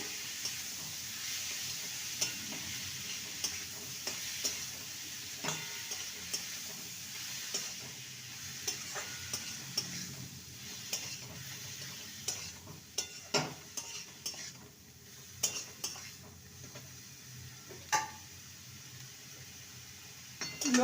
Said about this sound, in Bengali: এবার ফুলকপি ফুলকপির পেস্টটা দিয়ে দেবো ভালো করে মশলার সাথে